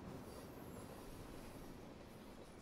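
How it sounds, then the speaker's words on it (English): A train rolls on rails in the video game Life is Strange 2, a constant low rumble with wheel squeal and faint clacking, quiet and steady with no talk. "I also have a feeling we jumped on the same train as Cassidy"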